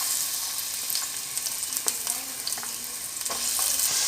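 Chopped onions sizzle in oil inside a kadai, a dense close hiss broken by occasional soft scrapes of stirring, with no voices.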